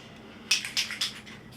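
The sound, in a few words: spraying dull coat over graffiti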